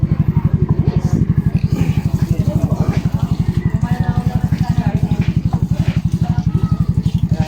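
A motorcycle engine idles close by with a loud, rapid, even putter that holds steady throughout, while people talk over it.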